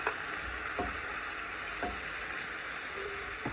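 Potatoes sizzle and fry steadily in a pan after a ground green paste with chillies is added, giving a continuous close hiss broken by a few soft clinks of stirring.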